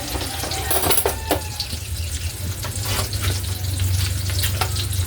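An eggplant omelette fries in a pan with a steady, close sizzle, broken by a few light clinks and scrapes, with faint running water in the background.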